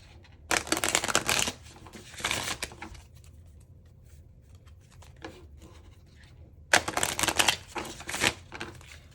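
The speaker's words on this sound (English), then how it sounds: "I'm going to get one more oracle card for you." A deck of oracle cards is shuffled close by in two brisk bursts of riffling, separated by a quieter stretch of soft rustling.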